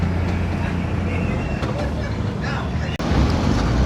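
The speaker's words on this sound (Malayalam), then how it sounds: "ഇതാ പോകുന്ന കാണാം, ഒരു ബോട്ട് വരുന്നു" A boat passing on the Pamba river at Alappuzha, heard from a houseboat as a constant loud engine and water rumble buffeted by wind, with no clear break in the noise.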